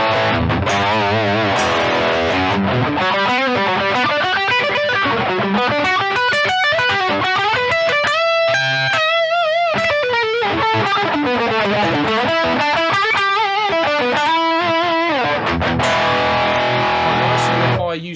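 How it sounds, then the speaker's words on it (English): A Grainger Apollo custom electric guitar plays through its bridge humbucker on a full distortion tone, loud and saturated, with a continuous run of riffs and sustained chords. "here is the bridge humbucker on a full distortion tone"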